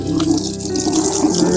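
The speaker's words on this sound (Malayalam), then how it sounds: "നല്ലൊരു വെള്ളം നിറക്കും" Water gushes from a tap into a container, a steady close splashing flow filling it up, with no voices.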